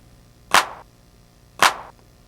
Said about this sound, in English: But when you add it with this clap,